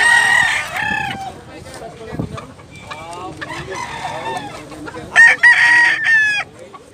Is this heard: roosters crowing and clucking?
yes